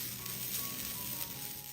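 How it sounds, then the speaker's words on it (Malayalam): Grated coconut dry-roasting in a pan over a medium flame, giving a soft, steady sizzle and faint rattling that holds evenly throughout, fairly quiet and close with no talking. "ഇനി ഒരു മീഡിയം ഫ്ലെയിം വെച്ചിട്ട് ഈ തേങ്ങയുടെ വെള്ളത്തിന്റെ അംശമൊക്കെ ഒന്ന് മാറി കിട്ടുന്നത് വരെ ഇതുപോലെ ഒന്ന് വറുത്തെടുക്കാം."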